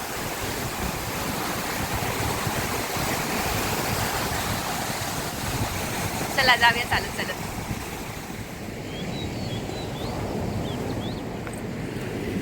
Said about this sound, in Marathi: बघा लाटी मोठी